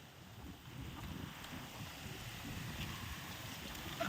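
Wind blows hard and steady with rain, producing a continuous broad rushing roar with microphone buffeting, loud and close, with no voices.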